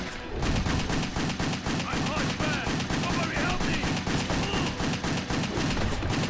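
Rapid gunfire in the video game Wet, a dense and loud stream of sharp shots that runs without a break for the whole clip.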